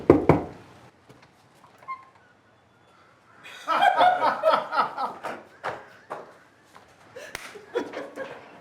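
A knock on a door at a Pro Football Hall of Fame welcome: a sharp rap at the start, then laughter and excited voices, with further scattered knocks amid the chatter.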